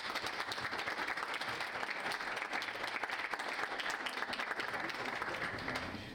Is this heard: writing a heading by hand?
no